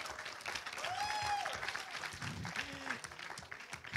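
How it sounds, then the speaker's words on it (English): Audience applause for the debaters at a youth parliamentary debate on banning fast fashion: a sustained wash of clapping with whistle-like tones rising over it. "Let's give them a big round of applause."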